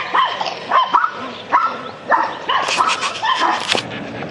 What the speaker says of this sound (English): pardon my barking dogs here